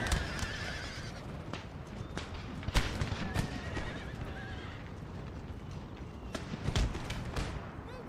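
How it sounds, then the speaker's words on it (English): In the battlefield game Empire: Total War, many hooves pound in a dense, continuous gallop while horses neigh again and again, loud and close, with scattered sharp impacts. "Oh, those poor horses."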